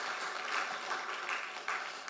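Soft, dense applause from a church congregation during a Sunday service, heard faint and somewhat distant, rising and falling slightly without any clear beat.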